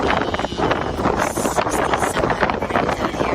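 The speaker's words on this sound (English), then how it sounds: "It is windy" Strong wind roars and buffets the microphone aboard a boat heading to Robben Island off Cape Town, a loud, constant gusty rumble with no voices.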